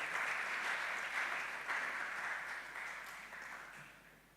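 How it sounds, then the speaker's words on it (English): Sustained audience applause at the opening ceremony of a Climate Change and Green Economy Week in Ghana, a dense steady wash of many hands that eases slightly toward the end. "I am sure we can do it better. Let's do that."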